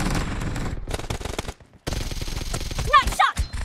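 Rapid automatic gunfire in a PUBG Mobile team deathmatch, dense bursts of close shots that break off for a brief silence, then resume with further rounds and a short synthetic game cue.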